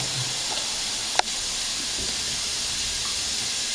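Vegetables, bacon and sausage stir-frying over high heat for fried rice, a steady close sizzling hiss throughout with one brief sharp click partway through.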